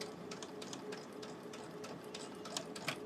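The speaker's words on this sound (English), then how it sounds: "And once we start sewing," Sewing machine running steadily while free-motion stitching with bobbin thread, a fast even mechanical ticking and whirring that holds at a constant level throughout.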